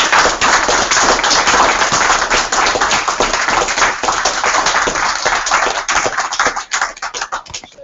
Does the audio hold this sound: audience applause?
yes